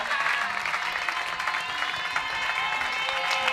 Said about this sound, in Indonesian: Tepuk tangan dong buat Mbak Dia.